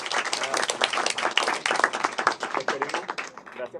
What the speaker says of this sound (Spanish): Un aplauso para el profesor Rey, por favor.